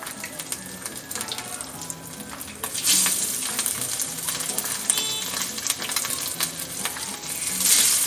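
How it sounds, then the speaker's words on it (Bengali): Hilsa fish frying in hot oil, a steady close sizzle with crackling pops and occasional metallic scraping as it cooks, rising somewhat louder partway through. "প্রথমে আমি মাছটাকে একটু হালকা করে ভেজে নেব।"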